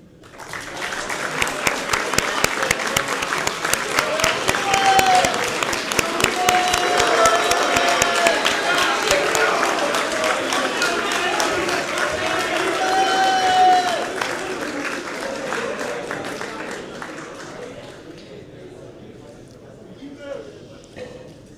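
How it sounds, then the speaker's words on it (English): A school assembly audience applauds blood donors with sustained, dense clapping that builds and then tapers off over about twenty seconds, with crowd voices and cheering mixed in. "so we can give you a round of applause"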